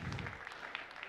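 Brief, soft applause ripples from the audience at a Microsoft Build 2016 tech conference session, a short burst of scattered clapping heard from a distance.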